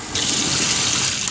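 A kitchen faucet running warm water to fill a Narwal T10 robot mop tank, a loud steady gushing stream that starts abruptly and continues close up.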